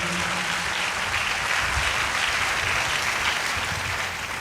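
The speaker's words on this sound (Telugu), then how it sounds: "చప్పట్లు కొట్టి దేవుడు మహిమపరచండి గట్టిగా అందరూ" Church congregation applauding together, a dense, steady roar of many hands clapping that stays loud and even throughout.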